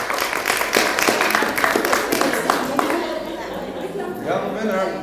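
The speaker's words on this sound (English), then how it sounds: "we're going to clap again" A classroom group of students claps in quick, ragged bursts, the hand claps rapid and close together, with voices chattering and calling out over them before the clapping thins out.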